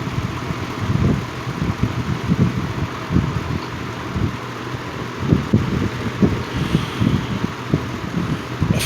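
A Lakewood X22 box fan with loose stator windings in its motor runs on low speed, giving a steady low, vibrating hum with a faint rhythmic throb and no voices.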